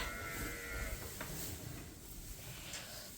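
Suffolk sheep bleat inside a barn at a lambing-time farm, their calls fairly faint and set against a steady background hum, with no talking.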